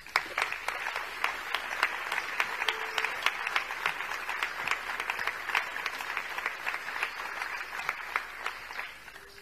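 An audience at a literary tribute event applauds after a reading, many hands clapping steadily with some sharper individual claps standing out, sustained for about nine seconds before tapering.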